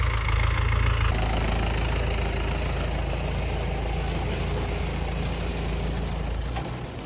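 A vehicle engine runs steadily in a village peanut field, a loud, close, continuous low rumble with a knocking edge that eases slightly toward the end, and no voices.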